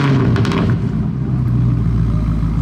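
A Camaro with a newly fitted exhaust line roars loud and close, holding a deep, steady rumble that barely varies in level for a few seconds.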